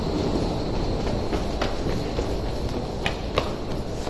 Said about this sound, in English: Courthouse metro station. Next stop, Dupont Circle.